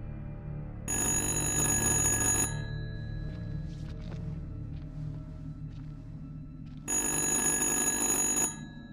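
A telephone rings in the horror video game Little Hope with two loud, sustained bursts of bell-like trilling separated by a few seconds of quieter ambient game sound, and no speech.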